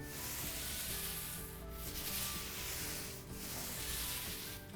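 A paint roller works paint across a wall surface, giving a steady, close, continuous rubbing and rasping sound with brief dips as the roller changes direction.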